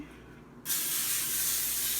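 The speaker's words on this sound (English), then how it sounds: "put some foil down, spray it" A steady aerosol spray of cooking spray hisses continuously onto foil on a cookie sheet after a brief quiet start, close and fairly loud.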